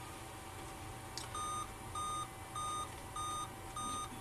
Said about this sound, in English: see, with the beep code there,